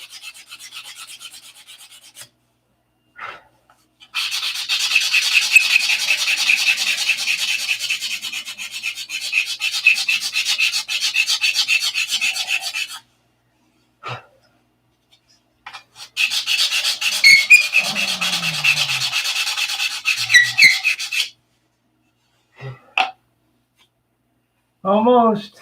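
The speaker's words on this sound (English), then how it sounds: "Nice thing about basswood, it does sand pretty easy." Basswood and plywood being sanded by hand, in long bursts of dry scratchy rubbing with short pauses between them and a few brief taps.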